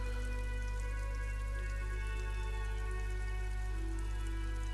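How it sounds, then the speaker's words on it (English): Steady rain patters on surfaces in a gritty video game street scene, a quiet, even hiss of drops with faint tonal ambience underneath and no voices. "Oh, look, it's lovely and raining."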